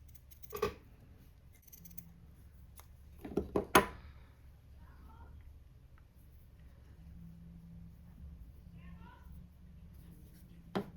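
Scissors cut fabric for a handmade textile journal: a few quick, close snips come singly and then in a short cluster in an otherwise quiet room, with a faint voice in the background.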